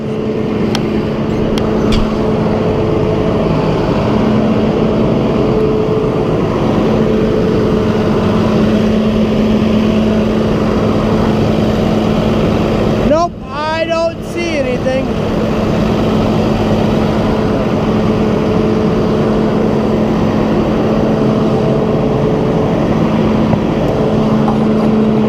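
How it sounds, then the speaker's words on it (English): An engine runs at a loud, steady drone for the whole stretch, holding a constant pitch with no clear rise. A short dip and rattle come midway through, and no voices are heard. "I better make sure we rev it up"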